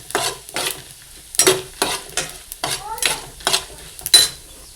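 Chili and coriander fry in a pan with a light sizzle while a spoon scrapes and stirs in repeated bursts, close by, a steady rhythm of short strokes.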